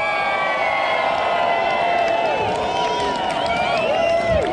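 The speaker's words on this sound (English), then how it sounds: "Give him a cheer." A crowd at an outdoor cycling event's prize ceremony cheering loudly and continuously, a dense wash of whoops and high yells with whistles, close and sustained throughout.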